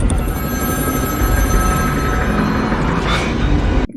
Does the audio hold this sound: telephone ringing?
yes